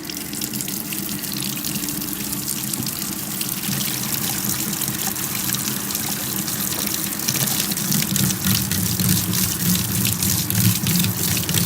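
Steady rush of water pouring into a high-efficiency top-loading washing machine tub during a rinse fill, a continuous broadband splashing that swells slightly louder toward the end, heard alone without talk.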